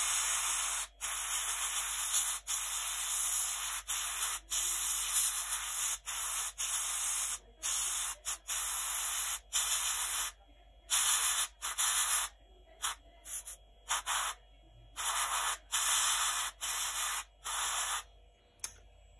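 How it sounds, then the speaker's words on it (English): Medium rust-tone spray paint hisses onto a plate in a random pattern, short and long bursts starting and stopping over and over, close and loud, with no talk. "Now the medium rust sprayed in a random pattern."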